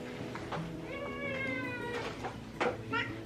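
A pet cat meows several times indoors, drawn-out rising cries at moderate volume close by, followed by shorter chirps, with low room noise beneath.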